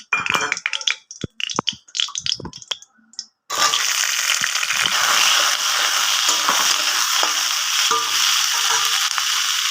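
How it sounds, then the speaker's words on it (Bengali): Capsicum fries in oil in a wok, first a stretch of scattered clinks and stirring knocks, then a sudden loud, steady sizzle that fills the rest, close and continuous, with no speech. "আমি কড়াইতে আবার তেল দিয়ে এবার আমি এটার মধ্যে ক্যাপসিকামটা ভেজে নেবো"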